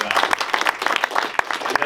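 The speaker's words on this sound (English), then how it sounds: "So another round of applause for Jeff." An audience applauds at a Q&A following a screening about surviving wrongful conviction, with sharp, scattered claps forming a steady, fairly close patter and a voice mixed in.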